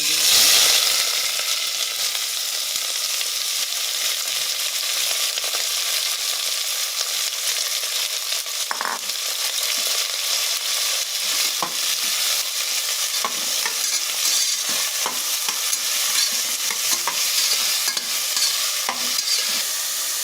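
Cauliflower and mixed vegetables frying in hot oil for pav bhaji, a steady loud sizzle throughout, with occasional spoon scrapes and clinks against the pan.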